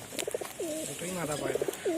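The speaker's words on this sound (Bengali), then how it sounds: "মস্তি মস্তি আছে পায়রাটার এই কারণে ডাকছে" A female pigeon coos nearby in rolling, throaty bursts, several calls in quick succession with short pauses between them.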